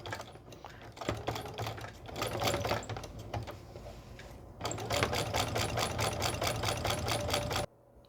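A sewing machine stitches an invisible applique onto a pillow. It runs as a rapid, steady mechanical patter in two close, loud runs with a short slowdown between them, then stops abruptly near the end.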